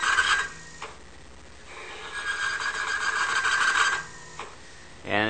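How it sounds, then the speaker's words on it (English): A refrigeration motor strains and grinds under heavy load until it locks up, a harsh rasping mechanical noise that swells, drops briefly, then surges again near the end, with no talking. "And we actually lock up the motor."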